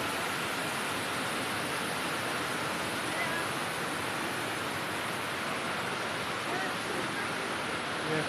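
Randha Falls, where water from Bhandardara dam plunges toward Nilwande dam, sends up a dense, steady roar of falling water that holds unbroken and fairly loud for the whole stretch.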